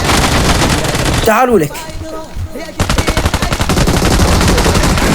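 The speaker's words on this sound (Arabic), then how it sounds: "قل له حلو اوزي، حلو حلو حلو صوت" Rapid automatic gunfire from an Uzi submachine gun in a video game, loud bursts that fill most of the clip with a short gap in the middle, while someone shouts over it.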